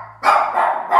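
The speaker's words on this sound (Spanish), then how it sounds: "Y Coco no para de mirar ahí y ladrar a la puerta." A pet dog at home barks at the front door late at night, a loud, close, sustained bark lasting most of a second after a brief quiet start, with a second burst rising at the end.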